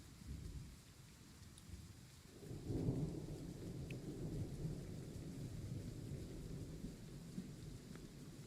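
Video-game thunder rolls low and soft over a steady wash of rain in a train game, the rumble swelling once in the middle before fading back under the continuous patter.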